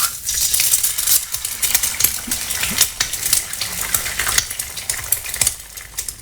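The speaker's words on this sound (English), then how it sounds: "some are frying eggs." Eggs fry in a pan with a steady, crackling sizzle, along with scattered metallic clinks and scraping of a utensil close by.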